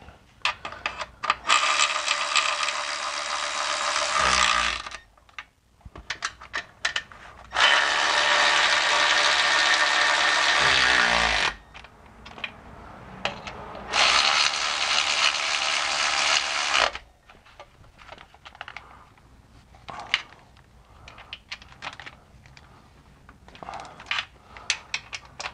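Ratchet wrench tightening transmission bolts on a BMW E46 during a manual swap, giving three long bursts of rapid clicking with short pauses between and a few faint knocks afterwards.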